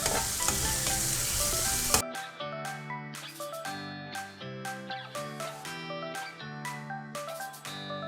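Onions sauté loudly in a pan for ginger chicken, a dense hiss lasting about two seconds before it cuts to plucked background music with no sizzle.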